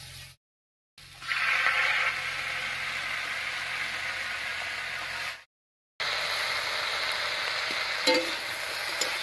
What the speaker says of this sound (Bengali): সব সবজিগুলো একটু ভাজা ভাজা মতো হয়ে গেছে